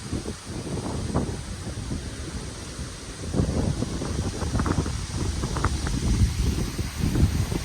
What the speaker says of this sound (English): Okay, wind's picking up again. Oh, that was a big wind gust.